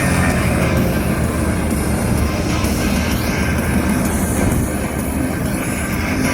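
Small aerobatic aircraft performing at the Wings Over Illawarra air show, a steady broad engine roar that holds loud and continuous throughout with no clear breaks, no talking over it.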